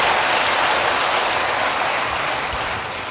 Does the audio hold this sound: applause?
yes